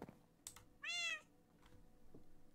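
A single clear meow from a cat named Charlotte, loud and close for about half a second, amid quiet room noise and a few faint clicks.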